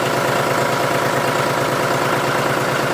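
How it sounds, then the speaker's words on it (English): A John Deere 5103 tractor engine running steadily after a cold start, a loud, close, continuous diesel idle with an even low thrumming pulse and no voices. "that's my cold start pretty much"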